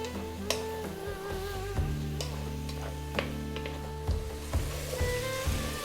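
Tomatoes sizzle in a pan over above-medium heat while cooking down for a Middle Eastern beef and eggplant dish, a steady soft frying hiss with a few sharper ticks and pops and some tonal tones running through it.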